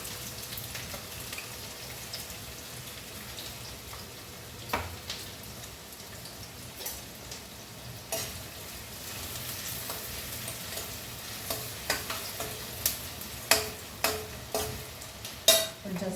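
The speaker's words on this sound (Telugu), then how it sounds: "ఇప్పుడు మనము ఆనియన్స్ వేసుకుందాం పచ్చిమిర్చి" Onions and green chillies fry in oil in a pan for potato kurma, a soft, steady sizzle with a series of spoon stirs and clinks growing more frequent toward the end.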